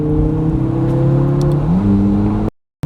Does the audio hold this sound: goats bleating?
no